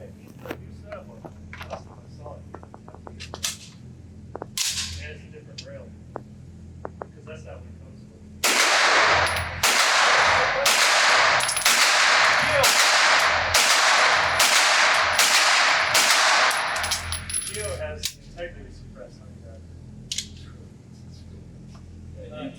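Rapid string of about a dozen pistol-caliber gunshots from a Grand Power Stribog SP9A1 at an outdoor range, loud and evenly spaced across several seconds, with quieter scattered shots before and after.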